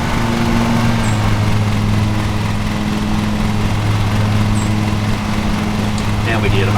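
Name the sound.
ride-on lawn mower engine in Lawn Mowing Sim video game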